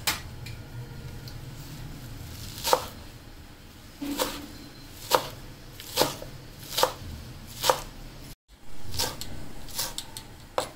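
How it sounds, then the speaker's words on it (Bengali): A knife chops fresh coriander leaves on a board with sharp, evenly spaced thuds about once a second, close and clear over a quiet room, with a short break near the end and no talking. "এখন আমি এটা সাইডে রেখে দিচ্ছি আর ধনিয়া পাতাগুলো কেটে নিচ্ছি"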